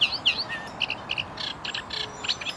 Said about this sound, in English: somewhere in here is Mr. Reed Warbler.